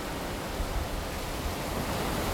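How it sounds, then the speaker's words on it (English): Ocean waves on a shore at sunrise make a constant, dense roaring wash with no break, loud and close throughout. "I hope the waves ain't too loud"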